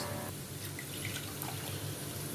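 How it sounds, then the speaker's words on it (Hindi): Jaggery syrup being poured into rice for sweet khichdi, a steady liquid trickle and splash running continuously at close range with no talking. "अब मैं इसमें डालूँगी गुड़ की चास।"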